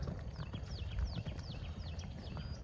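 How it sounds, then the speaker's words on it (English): Excited cattle move onto green grass pasture, their hooves thudding and clopping on the ground in a quick, uneven rhythm. The sound is fairly soft and continuous, with scattered bird chirps above it. "Some excited cows."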